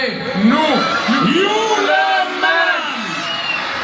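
A crowd at a Christmas tree lighting on Flakhaven square in Odense loudly shouts and yells in unison for Santa Claus, a dense wall of many voices with rising whoops and calls, close and sustained.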